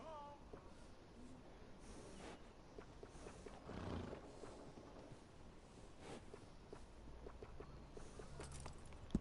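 In the western video game Red Dead Redemption, a horse whinnies and snorts amid soft hoof clops and outdoor ambience, fairly faint and spread over several seconds, ending with a sharp click.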